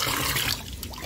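Running water rinsing used tea leaves, a steady rushing splash that drops off about halfway through into a softer trickle, close and loud.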